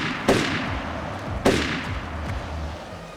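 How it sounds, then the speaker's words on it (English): Two sharp gunshots about a second apart in the 2007 video game Overclocked: A History of Violence, each a loud crack with a short decaying echo over a quiet background. "Somebody's shooting. Shots?"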